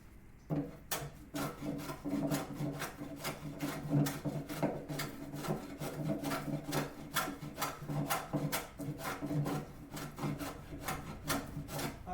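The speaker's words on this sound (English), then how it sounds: "When you're planing, and if you do it the correct way, which would be like, this is a good example, along the grain of the wood" A hand plane shaves along the grain of a board on a Roman workbench, making a steady series of rasping strokes, close and fairly loud, about one per second with no talking.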